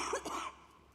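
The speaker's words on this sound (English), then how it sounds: "I knew I'd cough now" A single person coughs sharply during a speech at an architecture awards ceremony, a close, brief burst with a second cough following and then fading into room quiet.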